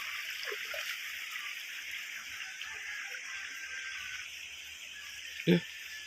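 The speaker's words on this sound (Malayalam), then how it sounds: "ഈ പാറയുടെ മുകളിൽ കൂടെ ഒലിച്ചു വരുന്ന വെള്ളത്തിൻ്റെ കാര്യം പറയണ്ടല്ലോ" Steady broadband rushing of river water flowing over rock runs throughout, a continuous close wash with a brief louder splash near the end.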